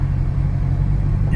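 Camaro Z28 car driving: a steady, loud low engine rumble heard from inside the car, continuous and close throughout the short stretch with no talk over it.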